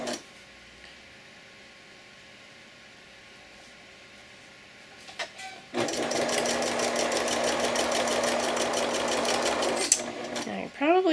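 A sewing machine runs up close, stitching a bib apron with red thread in a steady, fast mechanical whir for several seconds after a quieter stretch with a faint hum, then stops with a short whine.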